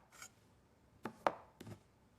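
Knife chopping a small onion on a board for chicken stew with vegetables, herbs and white wine: three or four sharp, separate chops spaced irregularly, close and alone without talk.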